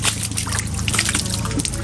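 Rainwater pours and trickles steadily into collecting drums beside a fishpond, a continuous near splashing and dribbling that carries on without a break.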